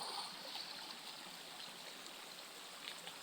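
Soft, steady burble of a creek flowing, faint and continuous with light trickling texture and no voices.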